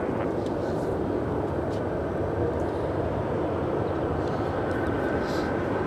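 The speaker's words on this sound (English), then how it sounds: "She's a 14-year-old A319." Jet noise from an Airbus A319 airliner at Los Angeles International Airport forms a steady, broad roar at moderate distance, with faint voices now and then in the background.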